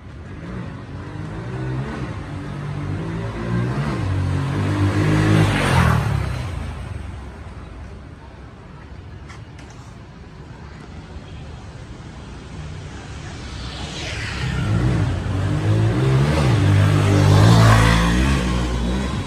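A Honda Wave Alpha 110 motorcycle engine revs hard during a wheelie, swelling loudly, easing off, then climbing again, with wind noise over an outdoor recording.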